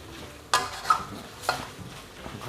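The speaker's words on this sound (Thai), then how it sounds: "ค่อยๆนะครับ ผัดไปเรื่อยๆ" Wild boar meat being stir-fried in a dry pan without oil, with a spatula scraping and knocking against the pan in several distinct strokes over a low sizzle, close by and with no talk.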